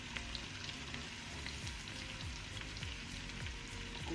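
Green, red and bell peppers fry together with Chinese cabbage in a pan for lagman, giving a steady, dense sizzle and crackle that carries on evenly throughout with no talking.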